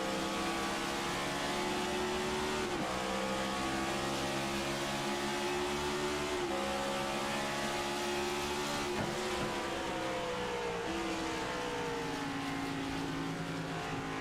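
Onboard engine note of a Legends car in an iRacing sim race at Atlanta Motor Speedway, a loud continuous drone that holds steady with a few brief dips and rises as the revs shift through the whole stretch.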